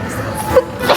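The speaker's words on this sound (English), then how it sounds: "Oh man, I couldn't stop sneezing." A single short sneeze, close and fairly loud, from someone whose nose was tickled by strong spices like Korean gochugaru while cooking.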